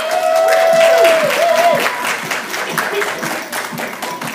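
Applause from an audience at a Mary Kay hostess event honoring star recruiters, a dense wash of clapping that swells then thins out, with brief crowd noise mixed in.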